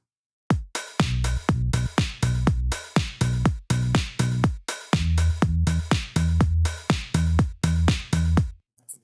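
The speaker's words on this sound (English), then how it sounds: "I've got the original kick and I've added in a bass line" A house kick drum with a hard attack layered with a soft, rounded bass line: a steady four-on-the-floor thump, loud and close, with low bass tones under each hit, no talking.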